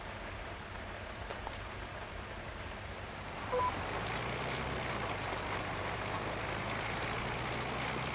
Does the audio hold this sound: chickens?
no